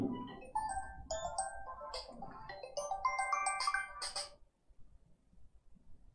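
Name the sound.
mobile phone ringing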